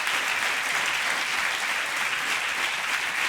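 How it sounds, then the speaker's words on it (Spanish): A church congregation applauds steadily during a Spanish-language sermon, a dense, continuous wash of clapping from many hands that holds an even loudness throughout with no talk over it. "dan un aplauso a Él"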